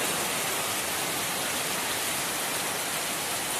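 Heavy wind-driven rain pours down in a steady, dense hiss, moderately loud and unbroken throughout.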